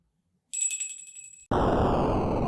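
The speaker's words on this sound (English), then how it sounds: "It says, like, ring for beer. Ring the bell." A small bell rings once, a bright, close, sustained ping that decays for about a second before being cut off by a sudden burst of loud broadband noise.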